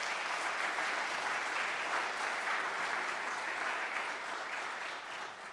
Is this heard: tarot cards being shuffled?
no